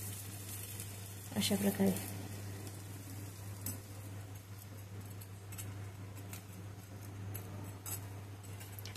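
Sandwich bread crisps in a hot pan with a soft, steady sizzle throughout, a brief louder scraping stir near the start, and someone speaking quietly over it.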